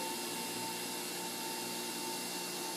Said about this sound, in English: It's like almost heard nothing grind up because it just spit the parsley back out.